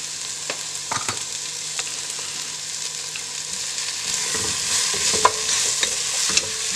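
Onions sizzle and crackle in hot oil with salt added, fried toward golden brown for a dum biryani; a steady close frying hiss with occasional stirring clicks and scrapes, no talk.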